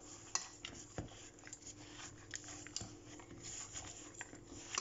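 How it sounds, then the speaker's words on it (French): Butter, sugar, flour, eggs and chocolate chips being stirred together into cookie dough, with a utensil clinking and scraping against the bowl in scattered taps and soft mixing sounds, close by and fairly quiet. "Donc je mélange bien les deux ingrédients, beurre, sucre avec un mélange de farine et œufs et pépites de chocolat."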